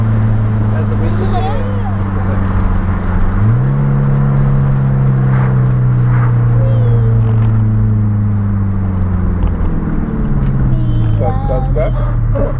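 A Ford Focus drives along with a steady engine drone whose pitch steps up partway through as it revs, the hum continuing under intermittent talk inside the car.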